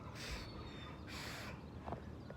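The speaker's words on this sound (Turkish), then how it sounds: "Dışında martıları, kargaları falan duyuyorsunuzdur belki." Outdoors, a crow caws twice in harsh bursts, loud against steady background noise, followed by a couple of fainter calls that could be gulls.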